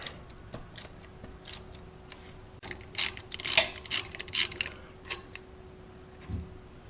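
An exhaust manifold stud comes out of a Ford Explorer 4.6L 3V engine with a hand tool, making bursts of close metallic ratcheting clicks and scraping over a steady hum. The activity grows busier midway, then tapers off.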